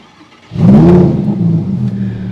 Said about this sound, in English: All right, start her up.